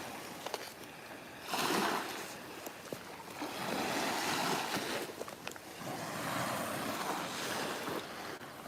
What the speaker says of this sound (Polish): morza szum